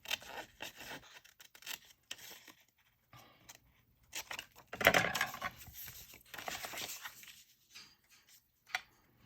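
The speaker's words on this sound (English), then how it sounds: "And then I can cut this out and it should fit." Scissors snip out a paper piece in a series of short, quiet cuts and crisp paper rustles spread unevenly across the stretch, close up, with pauses between strokes and no voices.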